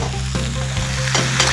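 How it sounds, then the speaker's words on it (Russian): Chanterelle mushrooms fry in a hot pan with a steady close sizzle, broken by a few scraping stirs of a utensil against the pan. "Как только грибы подрумянятся, перемешиваем их и оставляем обжариваться с другой стороны."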